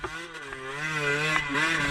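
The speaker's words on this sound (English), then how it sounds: "as Mike sails by on his torquey 4-stroke" A torquey four-stroke motorcycle engine climbs a steep hill on a trail, a steady mid-pitched drone that rises and shifts in pitch as it passes nearby.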